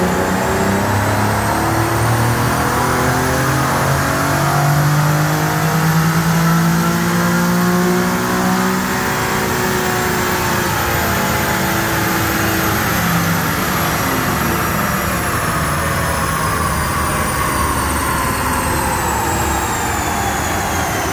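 Nissan 350Z engine on a dyno roaring loudly and continuously as it revs up through the gears with rising whine, sustained high load for the whole stretch, then easing off near the end.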